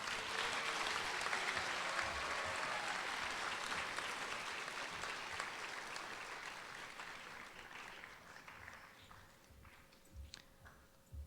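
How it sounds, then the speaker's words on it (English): Crowd applause at a JROTC awards ceremony for a cadet company, a broad dense wash of clapping at moderate distance that slowly thins out near the end. "Please join me in a round of applause for Bravo Company."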